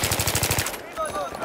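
An M60 machine gun in the Battlefield 3 video game fires a quick, loud burst of about nine rapid, evenly spaced shots, then stops and leaves faint battle noise and a brief voice.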